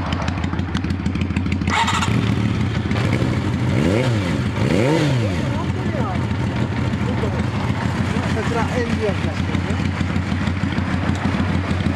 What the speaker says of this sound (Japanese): このマフラーを聞かせてくれる？